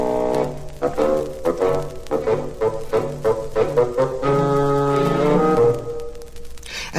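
Old bassoon theme for the grandfather in Peter and the Wolf, low reedy woodwind phrases with sustained notes and a steady rhythmic line, played alone and fairly loud for about seven seconds.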